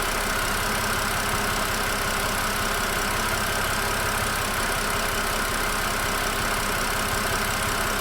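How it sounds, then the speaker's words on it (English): A car engine freshly filled with 5W40 oil and Liqui Moly MoS2 additive idles steadily for eight seconds, a constant close drone with a faint rhythmic ticking underneath and no voices. "So this is the engine noise after the oil change."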